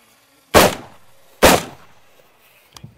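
A rifle is live-fired with a SureFire X400 mounted, two loud, sharp gunshots about a second apart, each with a short decaying echo, followed by faint clicks and small handling noises outdoors.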